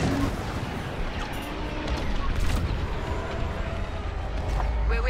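Laser blaster fire from starfighters in the Star Wars Squadrons space combat game, heard as a dense, continuous volley of shots and booms mixed with game sound over the full stretch.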